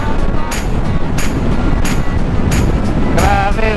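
Strong wind roars continuously into the microphone during a motorcycle ride on a road in Aurora, a dense, loud buffeting with faint voice fragments underneath.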